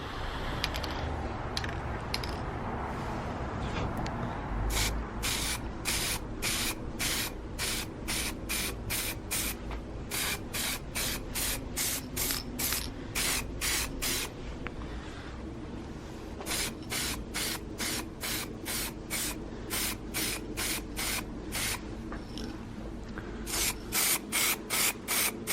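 Red paint sprayed onto Ford ST170 rear brake carriers in rapid repeated aerosol bursts, loud and close, each short hiss separated by brief gaps, with a faint mechanical clatter underneath and no talking.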